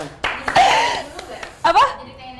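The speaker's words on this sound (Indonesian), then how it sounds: "Tepuk tangan." A few people clap briefly in small scattered bursts during a casual interview with cast members, close by, mixed with talking and light laughter.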